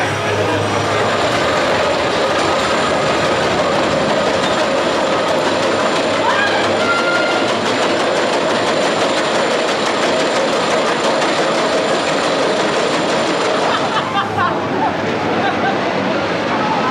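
An Arrow Hypercoaster roller coaster train running at Blackpool Pleasure Beach, a loud continuous rumble and roar of wheels on track, steady throughout with voices faintly mixed in.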